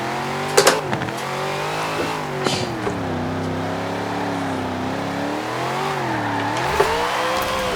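Race car in Forza Horizon 4 accelerating hard out of a corner's apex, engine revving steadily with rising and falling pitch and brief tire squeal, loud and close with no talk.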